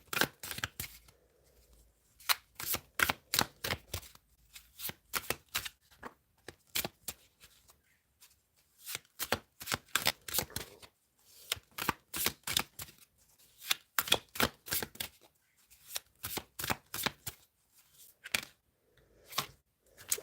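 Tarot cards are shuffled by hand up close in repeated quick riffling bursts, each a rapid series of crisp snaps, separated by short pauses over about twenty seconds, no voices.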